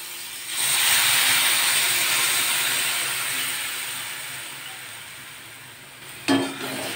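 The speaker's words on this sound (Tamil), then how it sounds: "இப்போ நம்ம வந்து கழனி அதில் ஊற்றிடலாம்." Rice-washing water is poured into ginger and brinjal frying in oil, setting off a loud rushing sizzle and hiss that slowly settles, with a small clatter near the end.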